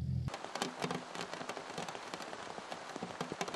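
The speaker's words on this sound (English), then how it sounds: "Torrential rain falling in the forests and suddenly the roads turning into rivers." Torrential rain pounds down in a forest, a dense continuous patter of drops on surfaces with scattered sharper hits, close and steady; distant thunder is not distinct beneath it.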